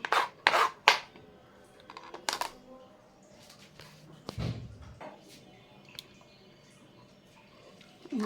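A knife chops carrot on a board in a few sharp, close strikes at the start, then softer scraping and rubbing sounds follow quietly.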